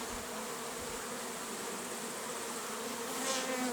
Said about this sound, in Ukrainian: Колода гудить.